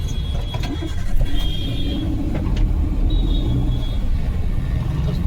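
Congested traffic on the Mumbai-Goa highway in Mangaon, a narrow road, rumbles steadily with close car and engine noise, a low continuous drone with faint higher whines drifting through.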